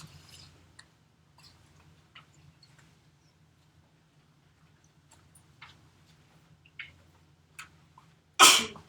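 A single sharp sneeze from someone in a classroom bursts out loudly near the end, after a mostly quiet stretch broken by faint scattered ticks and small noises.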